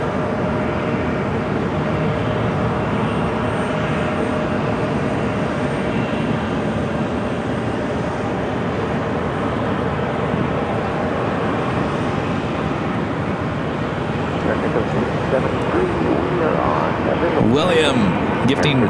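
A British Airways airliner taxis across Phoenix Sky Harbor airport, its steady broad jet rumble and whine holding constant in the distance while people talk over it throughout.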